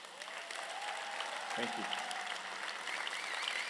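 Audience applause at a talk, steady clapping throughout with a brief spoken thanks partway through.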